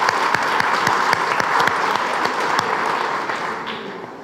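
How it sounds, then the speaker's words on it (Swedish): Audience applause at a Swedish-language seminar on when life is at stake, sustained crowd clapping that stays full and even, then fades slightly near the close. "Jag tycker vi ska applådera."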